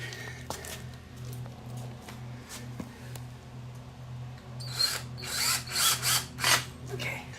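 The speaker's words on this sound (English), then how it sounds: "The next step is to put these set screws in each side." A power driver hums in pulsing bursts as set screws are driven into the sides of a Swagman XC2 bike rack, with scattered clicks and a few louder bursts of handling noise near the end.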